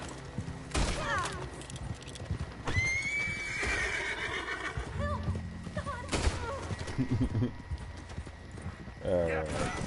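A horse in the video game Red Dead Redemption 2 neighs and whinnies several times over clip-clopping hooves, fairly close, with someone talking at times.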